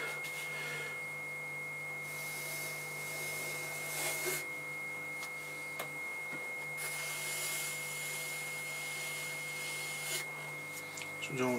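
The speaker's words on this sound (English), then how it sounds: "So basically wet trimming." Wet trimming of a clay bud vase on a spinning pottery wheel: a steady motor hum with intermittent gritty scraping bursts as the tool shaves the damp clay, close and continuous.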